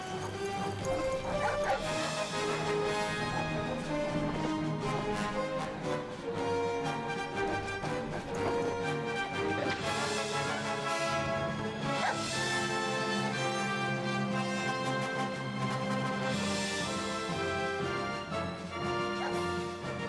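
A pack of dogs on an obstacle course in a BBC One Circles ident bark, yip and whimper again and again, loud and close over busy, continuous music.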